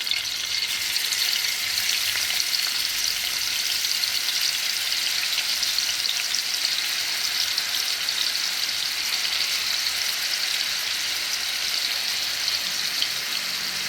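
Chicken pieces fry in oil with a steady, even hiss of sizzling that holds at a constant level from start to finish, close by and with no voices.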